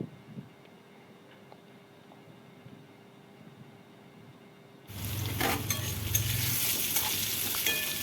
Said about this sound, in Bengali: তেল দিয়ে আলুগুলোকে ভালো করে ভেজে নেব